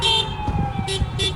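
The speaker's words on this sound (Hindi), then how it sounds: "200 से ज्यादा गाड़ियों में सायरन और हूटर बजे।" Sirens and horns from a large gathering of vehicles in New York sound together, with wailing tones and repeated honking bursts layered over a steady traffic din, loud and close.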